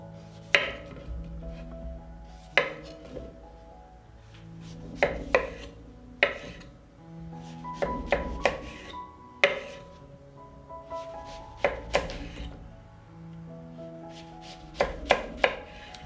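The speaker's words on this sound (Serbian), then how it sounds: "Na isti način iseckat ću i jednu tikvicu." A knife chops through zucchini on a cutting board in crisp, separate strikes, some single and some in quick pairs or triplets, with short quiet gaps between them.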